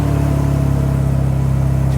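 A 1968 Morgan 4/4 car drives along with a steady, close engine drone and low rumble that holds even throughout.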